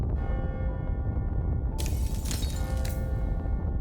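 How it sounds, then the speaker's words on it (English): A deep, booming bell tolls at midnight in the video game AI: The Somnium Files - Nirvana Initiative, swelling over a dense, rumbling soundtrack with bright ringing overtones that bloom and fade. "Is that the bell? The clock moved. Midnight."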